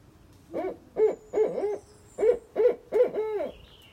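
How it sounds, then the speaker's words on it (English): An owl up on Fox Hollow in the South Hills of Eugene, Oregon, hoots in a clear rhythmic run of about seven resonant, evenly spaced notes, fairly near and alone over quiet woodland. "That's another owl."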